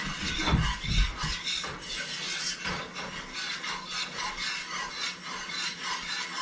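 A whisk scrapes and rasps steadily around a pan of thickening cheese gravy, a close, continuous rubbing texture with a louder burst near the start and no talking.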